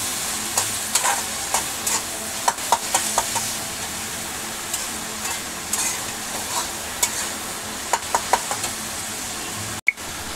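Sprouted moth bean bhaji being mixed and stirred in a frying pan, with a steady low sizzle and scattered sharp scrapes and knocks of the spoon against the pan, close and fairly quiet throughout.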